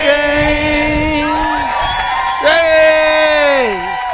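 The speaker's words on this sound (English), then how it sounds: "Now that's our crowd singing along with us, our audience." Ballpark crowd at a Mets baseball game sings along loudly in sustained, wavering voices, rising into cheers and whoops near the end.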